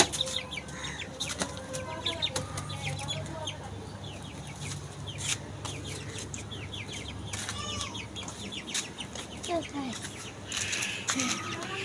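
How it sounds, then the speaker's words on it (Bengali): Several farmyard chickens cluck and squawk after being let out, with scattered wing flaps and calls near and far throughout, a person talking at times between them. "দেখুন, আমি আরো সব মুরগিগুলাকে ছাড়ছি এখন।"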